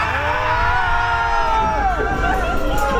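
Riders on a fairground ride at the Liège October Fair shout and cheer together in a loud, continuous crowd roar, with music and mechanical noise running underneath throughout.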